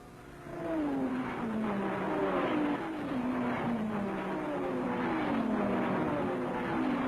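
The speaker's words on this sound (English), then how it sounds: "Les Leston and Peter Bolton are sticking close together in their Triumphs" Triumph TR4 race cars at the 1961 Le Mans 24 Hours, engines droning steadily with rising and falling pitch as they run close together, heard at a distance with no voices over it.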